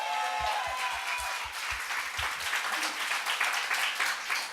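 A church congregation applauding during a Sunday worship service, dense clapping that starts over a fading low rhythmic thump and carries on steadily and loudly to the end.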